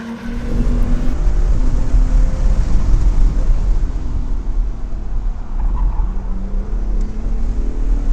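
A red 2018 Acura NSX sports car drives fast on a race track, heard as a loud, continuous engine drone and road roar from inside the cabin, with shifting pitch as it accelerates and slows.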